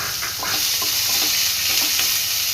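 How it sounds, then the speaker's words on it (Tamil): Continuous loud sizzling of chopped onions sautéing in a pan, with soft stirring scrapes mixed into the hiss. "வெங்காயம் கொஞ்சம் நல்லா வதங்கட்டும்."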